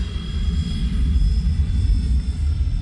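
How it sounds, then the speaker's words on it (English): A Freewing F-14 Tomcat 80mm RC jet plane flies overhead, its electric ducted fan giving a steady roaring rush with a thin high whine on top, fairly loud and continuous, with no talk. "This plane's a handful to fly"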